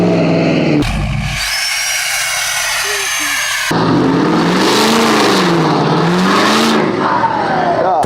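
A Ford 6.7 Powerstroke diesel truck revs loudly up close, its exhaust note rising and falling in repeated swells after a brief cut, continuous and dominant throughout.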